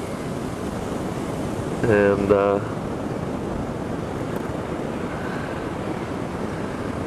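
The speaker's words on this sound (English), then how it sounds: "It's a little bit windy right now." Wind blows steadily across the microphone on a lake shore below a bluff, a constant broad rushing that continues throughout, with a brief spoken word partway through.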